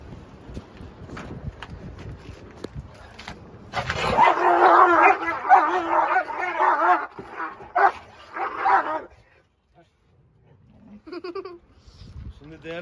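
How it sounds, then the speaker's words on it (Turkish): Doberman dogs eat meat side by side, growling and snarling in bursts with sharp barks and yips close by, and a person talks over parts of the scuffle. "Tabii köpekler yan yana et yerken normal bir şeydir ama şimdi Victoria çok, bu konuda çok hırslı"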